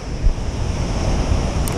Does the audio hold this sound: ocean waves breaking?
yes